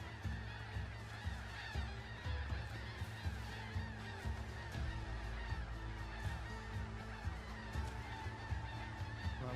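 Geese in a seafaring adventure game honk over and over in a noisy, overlapping flock, loud and close above a steady ambient backdrop with no talking.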